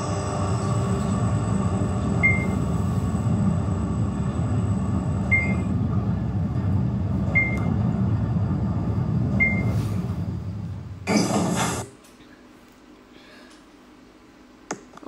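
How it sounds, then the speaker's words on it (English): A Schindler 5500 lift descends with a steady low mechanical rumble and faint periodic ticks, ending in a short clunk as the car stops, followed by near quiet. "it's time to go down in this Schindler lifts"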